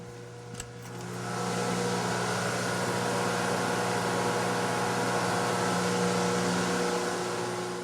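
A switch clicks, then an exhaust ventilation fan in a confined microhydro turbine station spins up into a steady, loud mechanical drone with a low tonal hum that holds constant to the end.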